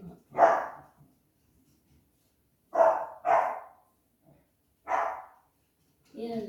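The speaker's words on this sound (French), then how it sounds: "Donc là, vous entendez ma chienne à côté." A female dog barks nearby in four separate loud, single or doubled barks spaced a second or two apart, with a brief spoken sound at the end.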